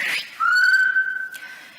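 A single clear whistled note from a person holds steady for about a second, fairly close and alone, after a short breathy onset.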